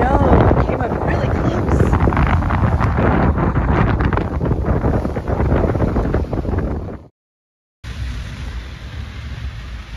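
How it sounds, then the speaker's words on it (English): Strong wind roars steadily across the microphone at Magnolia Beach, Texas on a winter day, a loud, dense rush broken by one brief drop to silence. "So it's been windy all day."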